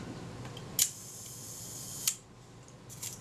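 A Kodak Retina IIa camera shutter, fired at its one-second setting, gives a sharp click that opens the exposure and a second click about a second later that closes it. Both are crisp and close, with a faint tick afterward.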